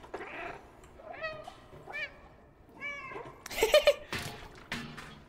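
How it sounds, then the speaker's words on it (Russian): Several short cat meows from the video game Stray come one after another, with a louder burst of game sound near the end and a faint voice in the background. "Я могу мяукать во время касцен."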